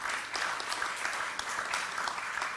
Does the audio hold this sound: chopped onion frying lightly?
no